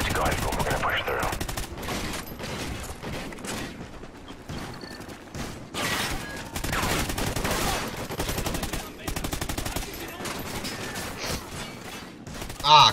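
Sustained gunfire from the Call of Duty: Ghosts game fills the scene, with bursts of automatic fire and louder cracks over a dense battle din, continuous and loud throughout.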